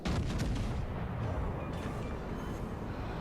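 Heavy naval gunfire striking a battleship in a naval combat video game, a dense continuous rumble of booms and blasts with no clear gaps between impacts.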